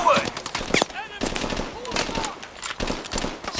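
Burst-fire rifle shots in Call of Duty: Advanced Warfare, sharp clustered cracks in quick groups of a few rounds, repeating across the moment close up, with a voice talking over them.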